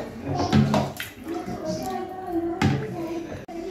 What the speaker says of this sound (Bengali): এবার জলটা দিয়ে দেব, একটু পাতলাই হবে